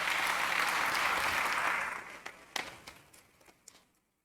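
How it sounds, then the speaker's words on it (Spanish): Warm applause from a crowd at a formal government session, dense and steady for about two seconds, then thinning into a few scattered final claps before fading out. "solicitar un caluroso aplauso por la presencia de nuestra presidenta del sistema DIF estatal"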